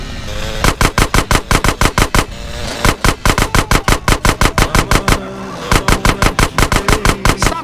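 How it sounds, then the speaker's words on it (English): Loud, close automatic gunfire in GTA San Andreas, rapid evenly spaced shots in three long bursts separated by brief pauses, with no speech. "Stop shooting that thing right next to my ear."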